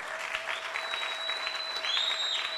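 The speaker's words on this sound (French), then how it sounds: "Est-ce qu'on peut remettre nos deux mains ensemble pour acclamer très fort le roi?" A church congregation applauds steadily at a Sunday service, a dense continuous clapping from a crowd that holds at even loudness throughout with a faint high tone running underneath.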